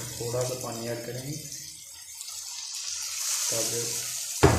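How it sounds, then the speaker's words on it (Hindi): Water pours into a pan of frying masala for a mixed vegetable dish, a steady hiss and splash close by, with a brief clink at the end and talk over it. "थोड़ा सा पानी ऐड करेंगे"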